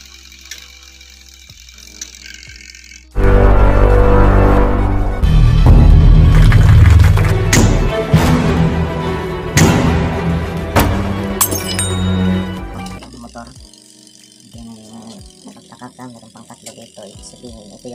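After a switch replacement, a washing machine motor starts up and runs continuously at a steady speed. It makes a loud, harsh rattling and clattering for about ten seconds before falling back to a quieter hum with scattered clicks.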